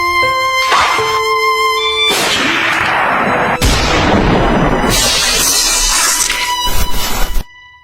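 A police officer's gunshot in a comedy drama: loud, dense blasts and a booming crash that fill the clip, then cut off abruptly near the end.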